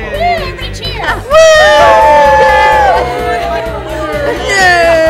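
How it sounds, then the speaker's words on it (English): A room full of people at an election-night gathering cheers and whoops loudly, with high shouted voices and overlapping yells swelling after a brief pause and continuing throughout. "Everybody cheer!"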